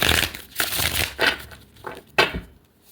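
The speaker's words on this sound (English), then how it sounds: "Let me shuffle a few more times." A deck of tarot cards is shuffled in quick bursts, several crisp riffling and crinkling strokes close by, each a sharp papery rush, with the last one the loudest before the sound fades.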